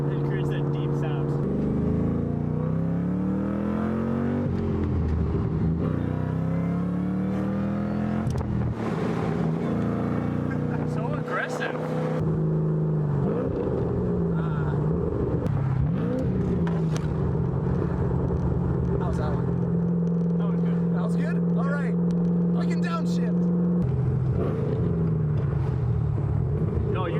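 A supercharged manual Mustang V8 with an aftermarket cam and axle-back exhaust revs and pulls hard, a deep rising and falling engine drone under heavy wind noise, with people talking over it.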